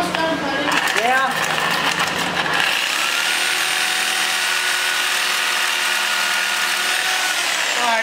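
Power tool blade cuts through a large bolt during removal of a motor from an 80's K5 Blazer, a harsh rattling grind for a couple of seconds followed by a steady high whine, with voices early on.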